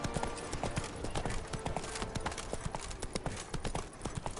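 Hooves clip-clop in a steady fast rhythm as a horse gallops in The Witcher 3, the beat loud and close throughout with a brief whinny-like texture mixed in.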